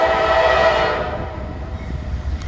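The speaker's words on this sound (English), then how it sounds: "a Norfolk Southern southbound in Marion, Ohio, and it's intermodal" A Norfolk Southern southbound intermodal freight train passing in Marion, Ohio, loud and near, with a sustained horn blast fading after about a second into the steady low rumble of rolling cars, no talk.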